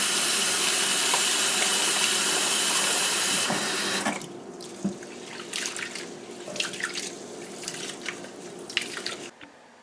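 Rice is washed under a running kitchen tap: a loud, steady gush of water runs for about four seconds, then cuts off, leaving scattered drips, sloshing and light rattling of wet grains.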